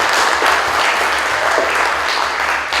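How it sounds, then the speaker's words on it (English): Loud, dense applause from an audience at a climate action event, continuous and even across the short stretch. "I think it's worth giving Vicky another round of applause."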